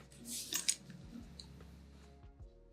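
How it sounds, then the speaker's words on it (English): Double-sided sticky tape peeled off one edge of a piece of vinyl for a see-through tote, a short crackling rip close by, followed by faint handling rustles in a quiet room. "peel off one edge of the double-sided sticky tape"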